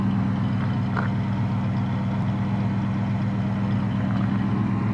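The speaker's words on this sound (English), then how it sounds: "I got the idle turned up just a little bit. It was a little stumbly this morning." A 1962 Plymouth Belvedere engine idles steadily with the idle turned up slightly, a constant low rumble close by with no other sounds.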